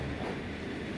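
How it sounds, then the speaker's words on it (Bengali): A train rolls along the rails with a dense, continuous low rumble that holds at a steady level throughout. "ট্রেন"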